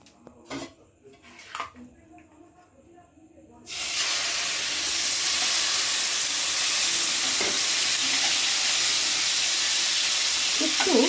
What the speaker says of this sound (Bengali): তেল গরম হয়ে গেছে ম্যারিনেট করা চিকেনটা আমি দিয়ে দেবো